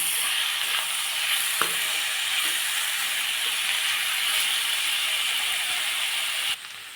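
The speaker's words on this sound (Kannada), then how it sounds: "ಟೊಮೊಟೊ ಹಾಕ್ಕೊಂಡು ಟೊಮೊಟೊ ಸಾಫ್ಟ್ ಆಗೋವರೆಗೆ ಬೇಯಿಸ್ಕೊಳ್ಳೋಣ" Tomatoes frying in a pan for palak hesarubele uppittu, a continuous close bright sizzle with a few small clicks and stirring taps, cutting off near the end, with no talking.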